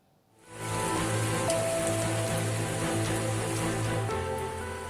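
Heavy rain pours steadily over Cirebon, a dense, loud hiss of falling water that swells in within the first half second and stays constant to the end.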